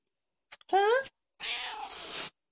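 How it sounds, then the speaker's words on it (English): A single clear cat meow rises in pitch, followed by a longer, rougher vocal sound from nearby, with quiet gaps around them. "I think the only word she says is meow and meow."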